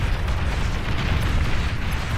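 Loud rumbling blasts from D-gun shots in the strategy game Beyond All Reason, a dense, roaring wash of explosions with a heavy low-end boom sustained throughout.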